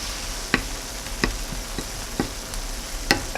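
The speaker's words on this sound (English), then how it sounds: "once I feel that tempeh only needs to be cooked a little bit on both sides" Thin tempeh slices fry in a pan with a steady low sizzle, punctuated by several sharp clicks and taps of a utensil against the pan at irregular intervals; no one speaks.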